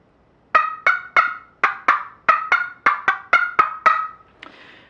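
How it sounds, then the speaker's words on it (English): A Northern scratchbox turkey call struck against its striker board, giving a series of about a dozen sharp, loud yelping notes in a quick, steady rhythm, up close and with no talking. "The lower pitches come when you strike it near the higher area on the striker board."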